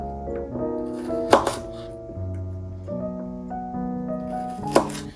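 Two sharp knife chops through small multicolored carrots land on a board, spaced a few seconds apart, heard over soft background music with no talk.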